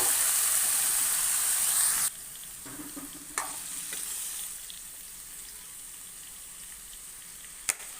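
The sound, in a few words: boiled chickpeas and potatoes poured into frying pan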